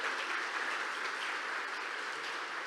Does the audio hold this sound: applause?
yes